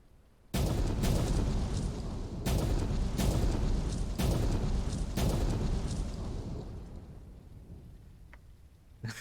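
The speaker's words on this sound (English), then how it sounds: "I think that was 5 booms that went off" Boomstick blasting charges detonate in the mining game Out of Ore: a rapid series of five or six heavy, rumbling booms in about five seconds, each rolling into the next, then a long fading rumble as the dirt settles.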